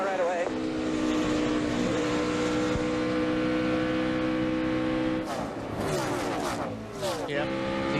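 A NASCAR race car's engine running rough and down on power drones steadily, then sags and stumbles briefly in the middle before picking up again, with commentators talking over it.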